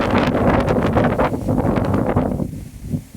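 A strong, fast wind roars and buffets across the microphone in Anjar. The rush stays loud and steady for about three seconds, then eases slightly toward the end.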